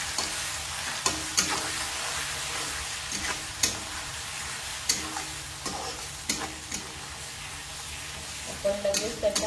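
Ginger garlic paste being stirred into chicken curry frying in a pan, soft steady sizzling with repeated clicks and scrapes of the spoon against the pan at an irregular rhythm, close and fairly quiet.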